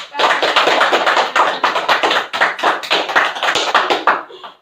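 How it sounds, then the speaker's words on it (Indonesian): A classroom of students clapping in quick, loud, close bursts of rhythmic hand claps, fading and stopping at the end. "Beri applause, tepuk tangan"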